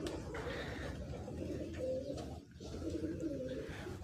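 Pigeons coo softly and continuously, low rolling calls overlapping at a modest distance against a quiet background.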